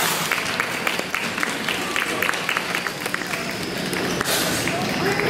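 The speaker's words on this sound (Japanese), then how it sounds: "ご協力いただいたお客様に拍手をお願いします。" An audience claps for participants at a demonstration of the Zero-shiki Jinki ver.2.0 humanoid heavy-machinery robot at the Kyoto Railway Museum, a steady wash of applause that stays even and moderately loud throughout.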